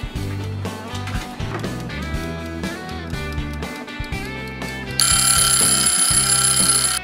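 A kitchen timer rings while chocolate chip chocolate muffins bake, a loud continuous electronic alarm that grows harsher and brighter near the end, with no voices.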